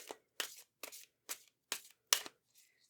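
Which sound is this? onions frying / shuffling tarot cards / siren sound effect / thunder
shuffling tarot cards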